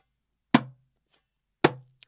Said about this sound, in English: The mute is very similar to the slap, but the mute uses a slightly less aggressive motion.